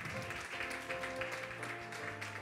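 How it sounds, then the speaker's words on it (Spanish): A church congregation applauds together, a steady wash of clapping that carries over sustained musical tones from choir or instruments. "Dale un aplauso fuerte al Señor"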